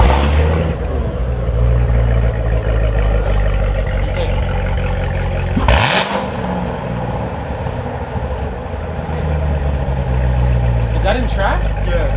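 Corvette C7 Z06 with a Borla X-pipe exhaust, in track mode, rumbling loud and close with a deep steady drone and a sharp rev blip midway, voices talking faintly underneath.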